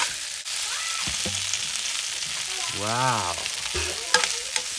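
Mixed vegetables stir-frying in a hot pan, a steady close sizzle with occasional scraping stirs, while a voice briefly exclaims over it.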